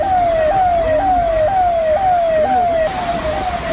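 A fire brigade vehicle's siren wails through flooded Mumbai streets, loud and close, its rising sweeps repeating roughly every half second over a constant engine and road rumble.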